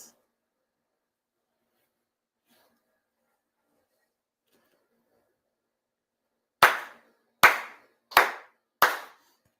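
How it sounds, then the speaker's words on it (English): Four ritual hand claps at a Shinto shrine's monthly ceremony ring out crisply and evenly spaced after a long stretch of near silence, each sharp and close with a short decay. "4 sincere claps."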